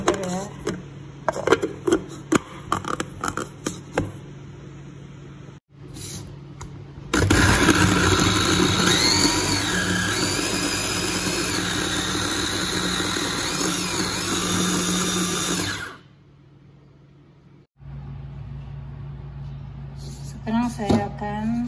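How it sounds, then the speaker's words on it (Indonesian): A kitchen blender whirs loudly and continuously for about nine seconds, blending fried blackened onions with quartered tomato; handling clatter and talking come before and after it. "Lanjut blender ya."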